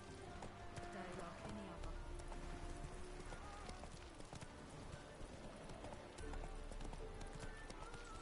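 Hooves of Roach, the horse in The Witcher 3, clop in a rapid galloping rhythm, steady and close, with a person talking over the hoofbeats.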